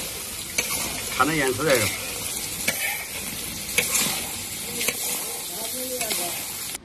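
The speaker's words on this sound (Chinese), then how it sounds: "这姜蒜豆瓣泡海椒一下锅" Ginger, garlic, bean paste and pickled chilies sizzle and hiss steadily in a hot wok for a crayfish stir-fry, with occasional stirring scrapes and a person talking over the frying.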